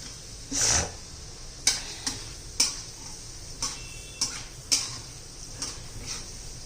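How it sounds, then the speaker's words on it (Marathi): Urad dal frying in oil is stirred with a spoon in a pan, making a series of sharp metallic scrapes and taps at an uneven pace over a faint sizzle. "उडी डाळ पण चालते छान असं तेलामध्ये आपण हे परतून घेऊ डाळ चांगली खरपूस अशी भाजली पाहिजे"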